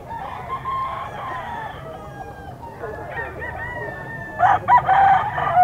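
At a pet market, gamefowl roosters crow repeatedly, with a loud close crow near the end rising over other birds and clucking, amid faint crowd chatter.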